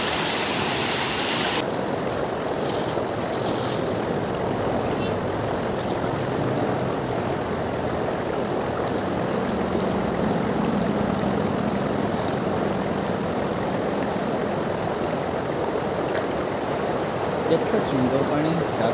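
River water flows steadily through a morning jungle, a continuous broadband wash running unbroken throughout, with a faint low droning hum partway through.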